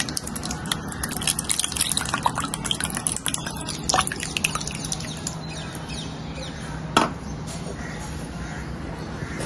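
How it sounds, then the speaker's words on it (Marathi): Homemade yogurt, set overnight from a litre of boiled milk, strains through thin cotton cloth into chakka for shrikhand. It gives a faint, steady dripping and trickling, with a brief sharper splash near the end. "ते दही आपण त्याचा चक्का बनवण्यासाठी गाळून घेऊया"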